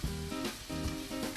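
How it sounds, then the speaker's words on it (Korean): Meat stir-frying in a pan aboard a fishing boat, a steady loud sizzle with pulsing bursts as it is stirred, close up and without voices. "배 한가득 고기 볶는 냄새가 퍼집니다."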